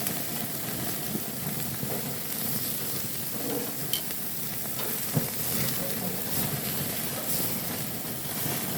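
Picanha beef fat sizzles and renders on a hot grill with a constant dense crackle close by, steady throughout, with occasional small pops and no voices.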